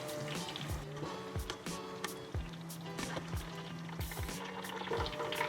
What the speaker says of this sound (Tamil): ஒரே அளவுக்கு எல்லாமே ஒரே அளவுக்கு பொன்னிறமாக பொரிஞ்சு வந்துட்டு இதை வடிச்செடுக்கலாம்